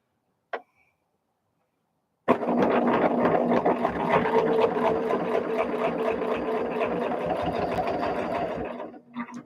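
A sewing machine doing straight stitching on quilt binding, a brief click and then several seconds of fast, steady mechanical whirring and needle ticking that stops at the end.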